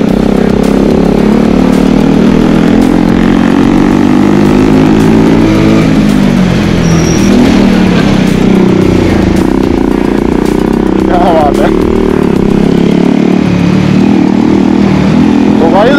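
An NS 200 and a Pulsar 180 motorcycle race a scooter, their engines droning loudly and continuously up close while people talk over the noise.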